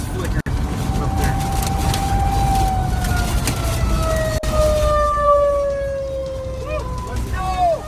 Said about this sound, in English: Sirens going off, guys.